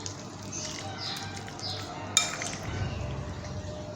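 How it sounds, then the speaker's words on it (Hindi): Papaya, garlic and ginger are mixed into meat in a bowl, giving soft wet stirring and faint scraping with one sharp clink of a utensil against the bowl. "और इसको मिक्स करूँगी ताकि ये पपीता इसमें अच्छी तरीके से मिक्स हो जाए"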